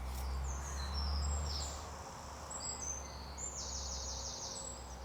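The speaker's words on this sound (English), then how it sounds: "Plenty of birds." Birds singing in a sunny graveyard, with faint high chirps and short trills scattered over a steady low rumble of background noise, distant and quiet, with no voices.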